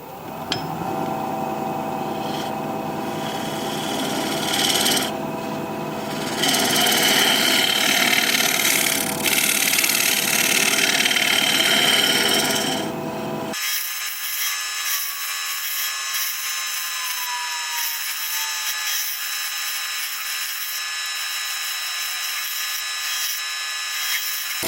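A 1.5 inch negative rake scraper cuts black cherry wood on a spinning lathe, giving a loud, sustained buzzing scrape with rough surges for about half the time, then a thinner steady whine as the cut stops.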